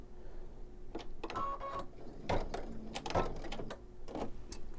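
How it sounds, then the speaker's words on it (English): A home sewing machine stitching slowly one stitch at a time through a quilted mug rug coaster with a bee hive design, giving close, uneven mechanical clicks and whirring bursts with no talking. "on my machine, I can press and hold the green button, and it will go stitch by stitch"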